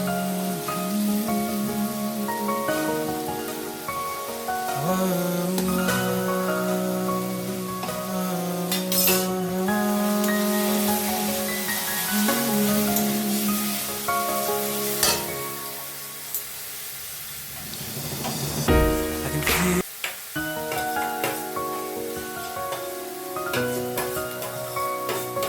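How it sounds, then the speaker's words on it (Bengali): Fried potatoes are added one by one to sizzling masala in a pan for a raw banana kofta curry and stirred, giving a steady frying hiss with scraping under continuous background music. "এবার ভেজে রাখা আলুগুলো দিয়ে দেবো একে একে।"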